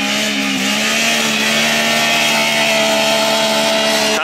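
A Textron Wildcat XX side-by-side rolls through a set of trail rollers, its engine holding a loud, steady drone with a sustained mechanical whine close up and no voices.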